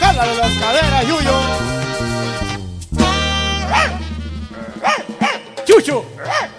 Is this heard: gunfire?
no